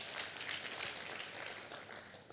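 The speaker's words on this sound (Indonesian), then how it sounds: "Kita kasih tepuk tangan yang meriah buat Tuhan kita." Applause from a church congregation, a steady faint wash of many hands clapping together that lasts throughout without breaks, with no speech over it.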